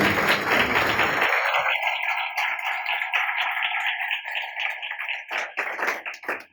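A church congregation claps loudly for about a second at the start of a sermon. The burst of applause then gives way to sustained instrumental tones.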